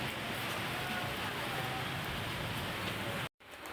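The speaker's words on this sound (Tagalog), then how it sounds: "Lakas na yung ulan sa labas." Heavy rain pours outside with strong wind, a loud, steady, dense hiss of downpour filling the whole stretch before cutting off abruptly near the end.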